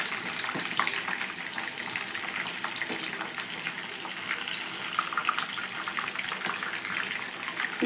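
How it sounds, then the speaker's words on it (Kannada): Garlic chicken kebab pieces frying in hot oil, giving a continuous dense crackling hiss that stays steady and fairly loud throughout, with a few soft bumps and no voices. "ಗೋಲ್ಡನ್ ಕಲರ್ ಬರೋವರೆಗೂ ಫ್ರೈ ಮಾಡ್ಕೊಳ್ಳಿ,"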